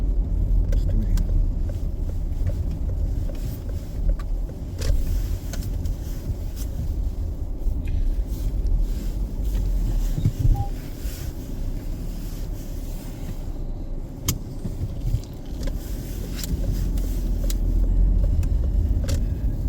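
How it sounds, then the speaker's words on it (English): A car drives slowly along a dead-end road in Newcastle's West End and turns around. The engine and road rumble stay steady throughout, with gusts of wind buffeting the microphone and no voices. "It's a no-through road, so I'm going to have to do a U-turn"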